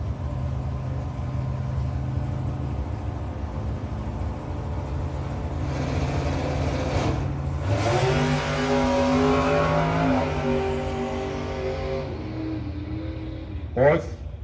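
A 1969 Camaro and a Vega wagon drag race at a no-box shootout, engines droning and then surging into a loud, rising roar that fades, with an announcer talking throughout.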